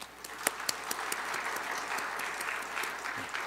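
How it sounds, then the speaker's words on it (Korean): A church congregation claps in welcome for a new minister, a soft, steady patter of hands across the room with a few sharper nearby claps standing out, heard from some distance. "이 시간에 우리가 박수로 그렇게 환영하도록 하겠습니다"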